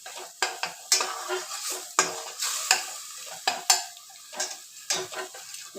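Ingredients frying in a pan while a metal spatula scrapes and clacks against it, sharp irregular knocks every half second or so over a soft background sizzle, close and without talk.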